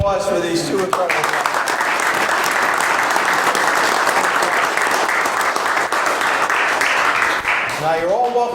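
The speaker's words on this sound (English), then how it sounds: "one more round of applause for these 2 incredible guys" Sustained applause from a township committee meeting audience honoring two people for 50 years of service, steady dense clapping throughout with a voice speaking briefly at the start and end.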